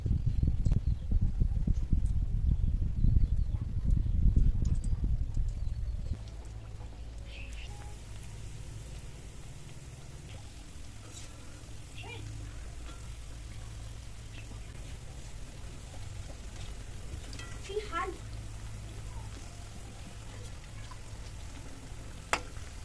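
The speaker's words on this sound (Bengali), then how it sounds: "সাদা তেল সমেত কড়াটা বসিয়ে দিয়েছি, এবার সাদা তেলে ভেজে নেব।" Khaja sweet dough frying in medium-hot white oil in a wok over a medium gas flame, a steady crackling sizzle that is fuller for the first few seconds and then settles into a softer, even hiss, with a voice faintly in places.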